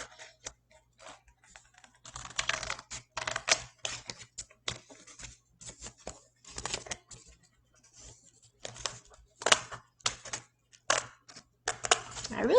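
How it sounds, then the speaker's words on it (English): Scissors snip through a paper plate being cut for a craft wand or sword, giving quiet, crisp clicking cuts in short irregular bursts with brief pauses as the plate is turned. "Cut on the line. Turn the plate. And snip, snip, snip."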